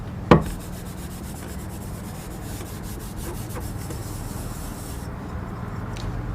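Soft, continuous rubbing on a fired lustre pottery piece fresh from the kiln, opening with a sharp knock and then a quiet, steady scuffing texture up close with no talk.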